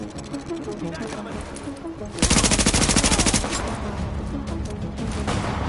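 Rapid automatic gunfire in The Division, a sustained burst of loud, tightly spaced shots that starts partway through, over a continuous backdrop of battle noise.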